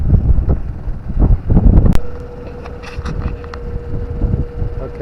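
Wind buffeting a small sailboat on a broad reach during a solo sail, with loud, gusty, rumbling microphone wind noise that surges and fades throughout.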